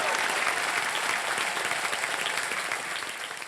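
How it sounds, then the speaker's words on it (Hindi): Loud, sustained studio audience applause on a televised game show, a dense wash of clapping that holds steady and then eases slightly toward the end. "जोरदार तालियां."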